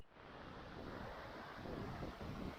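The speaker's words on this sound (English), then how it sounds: "Creek's in good shape. It's running full." A full-running creek in winter after rain, giving a steady, close rush of churning water with some wind buffeting the microphone, constant throughout with no voices.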